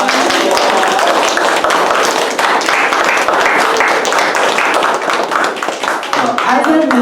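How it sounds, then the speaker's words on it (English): Audience clapping at a community arts and creative writing event, a dense, steady patter of many hands that carries on loudly for several seconds with voices mixed in. "Y'all please clap it up for all of our"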